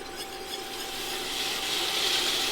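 A spoon or whisk scrapes continuously through a thick IPA roux for turkey gravy in a pan, a steady rubbing, rasping sound that grows slightly louder, with a faint constant tone underneath and no talking.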